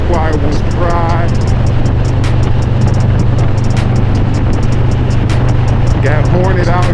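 2023 Harley-Davidson Street Glide Special riding on a Michigan road, a constant loud low engine drone mixed with heavy wind rush, with a voice talking over it at times.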